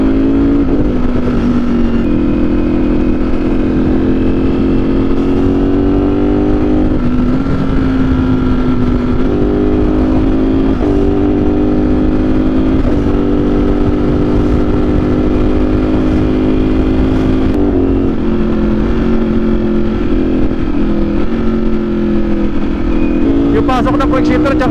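A Ducati Streetfighter V4S naked sports bike being ridden with its quick shifter, a loud, steady engine drone holding throughout with brief pitch dips and rises as gears change, close and continuous.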